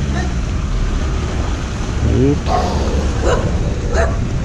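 Dogs bark in a few sharp yips and bow-wows aboard the Sigandhur ferry, heard over the rumble of the boat and water while people talk nearby.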